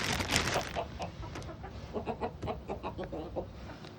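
Backyard chickens clucking and murmuring close by, a steady run of short rhythmic clucks of moderate loudness with one louder squawk near the start, no talk over them.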